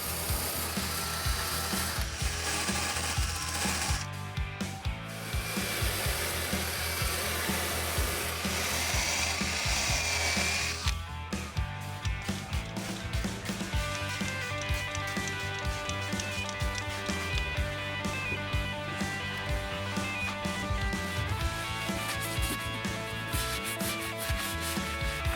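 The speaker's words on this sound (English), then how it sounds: "I'll use a wire wheel on a drill to clean up the rust and prep the area for paint." A wire wheel spun by a drill scrubbing rust off the body of a Jeep JK, a continuous harsh abrasive whirring grind that briefly dips and resumes, steady and close with no voices.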